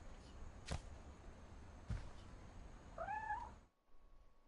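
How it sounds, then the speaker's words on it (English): A cat meows in the video game What Remains of Edith Finch, one short rising-and-falling call that stands out clearly over the game's ambient background, with a couple of sharp thuds just before it. "I heard that cat, by the way, before I left."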